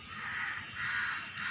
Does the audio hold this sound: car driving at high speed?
no